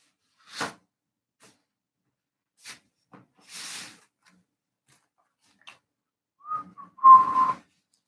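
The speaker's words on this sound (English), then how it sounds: "As you see, I cannot whistle." A person trying and failing to whistle, giving several short, breathy, airy puffs separated by silence and ending in a thin, wavering whistle-like tone at close range.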